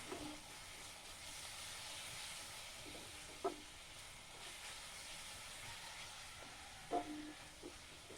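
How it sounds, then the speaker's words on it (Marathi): Masala and a green paste of mint and coriander fry in oil for a prawn dish, giving a steady soft hiss with two brief sharper crackles. "फ्रेंड्स हे सर्व मसाला तेलावर फ्राय होत असताना"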